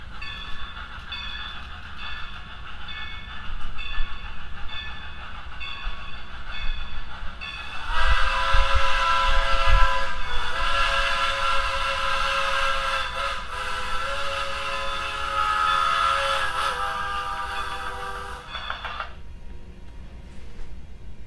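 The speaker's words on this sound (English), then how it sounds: "There's no train here, but you can hear it coming." An HO scale model railroad crossing gate plays an approaching-train sound effect: faint rumbling builds, then loud horn blasts and rolling rail noise sustain for about ten seconds before fading.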